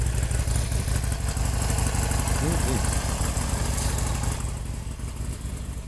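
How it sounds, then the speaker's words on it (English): A 2016 Harley-Davidson Roadster motorcycle engine idles steadily nearby while warming the oil, a continuous low rumble with a faint mechanical rattle and no pitch change. "I'm running the engine for a little bit just to warm the oil up"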